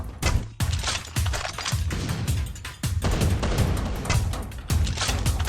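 Rapid bursts of gunfire and heavy explosive booms from an M79 grenade launcher in the game Free Fire crowd together in a chaotic, loud volley of combat sounds.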